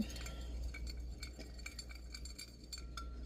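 A spoon stirs a mixture in a glass container, giving quiet repeated clinks and scrapes against the glass at an uneven rhythm, faint and close with no talking.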